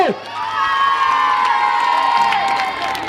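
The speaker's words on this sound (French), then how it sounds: "je voudrais l'applaudir très fort" A crowd at a rugby event cheers and applauds loudly and continuously, with shouts and whoops rising over a steady roar for about three seconds.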